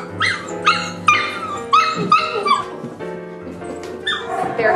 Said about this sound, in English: The puppies, and it could get a little noisy in here